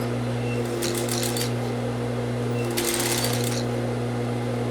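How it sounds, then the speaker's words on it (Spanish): A sewing machine stitches fabric right beside an overlocked seam allowance, with two bursts of rapid needle clatter over a steady motor hum, clear and close with no talking. "voy a coser exactamente a un ladito de donde está el overlock"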